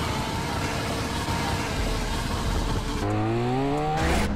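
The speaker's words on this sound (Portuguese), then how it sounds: "O barulho dessa moto aqui é alto" A loud, steady BMW K 1600 motorcycle engine roar in GTA San Andreas that shifts into rising revs toward the end, close and continuous.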